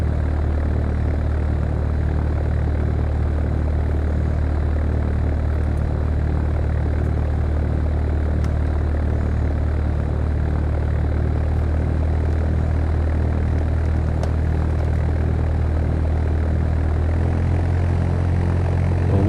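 A propeller airplane taxis to the runway in the flight simulator Fly! II, its engine droning in a steady, loud, unbroken hum throughout.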